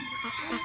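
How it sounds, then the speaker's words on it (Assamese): Ducklings on a duck farm in Assam, a brief burst of high, overlapping peeping and chirping calls close by, fairly faint. "এইটো চাওক হাঁহ পোৱালিকেইটা"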